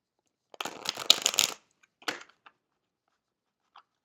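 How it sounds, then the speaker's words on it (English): Cards riffle-shuffled close up in one dense burst of rapid flicking, followed by a couple of softer taps and card snaps. "Okay, one more shuffle."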